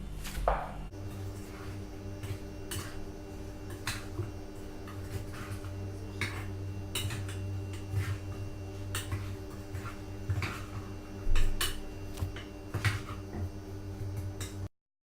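Biryani ingredients with yogurt and onions are stirred in a pot, giving a series of soft, irregular scraping and tapping knocks from a spoon against the pot over a steady low background hum, close and quiet.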